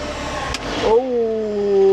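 A farm tractor engages the power take-off to drive a grass mower. A brief clunk gives way to a rising mechanical whine and hum, close and loud.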